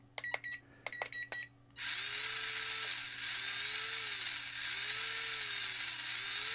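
A WLtoys XK 6408 RC semi truck's electric motor whines at high speed, a steady high-pitched buzz that starts abruptly after a few short beeping bursts and holds with slight pulsing.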